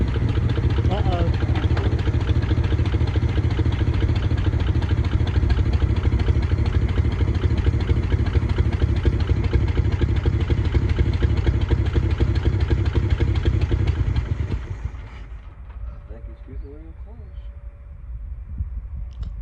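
An old truck's engine, just brought back to life after 20 years, runs at a steady loud idle with a pulsing low throb, then cuts out abruptly near the end, leaving quiet background.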